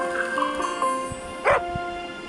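A dog gives a few short, yappy barks and whimpers, fairly close, with a faint steady tone in the background.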